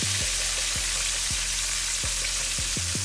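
Pork chops fry in a pan with a dense, steady sizzle throughout, broken by a few soft clicks or knocks, with no talking.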